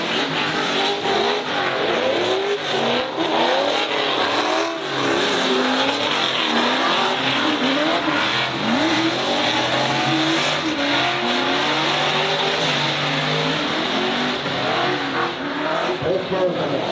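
Drift cars, among them a black, teal and pink Corvette, race through a competition lap with engines roaring, revving and tyres squealing continuously at close range, while an announcer's voice runs underneath.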